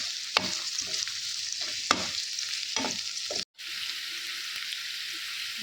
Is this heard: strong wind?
no